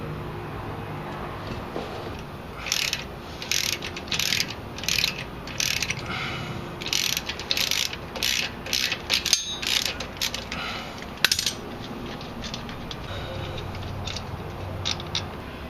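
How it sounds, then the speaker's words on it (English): Ratchet clicking in short repeated bursts while removing the four bolts from the sway bar on a 1999–2004 Jeep Grand Cherokee, close and crisp, with pauses between strokes and a brief metallic clunk near the end. "So all we got to do is remove these 4 bolts."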